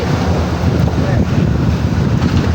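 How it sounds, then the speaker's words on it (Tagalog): Big ocean waves heard from a fishing boat at sea, a loud, steady rumbling wash of surf and water mixed with heavy wind buffeting the microphone, no voices. "kalalaki ng alon"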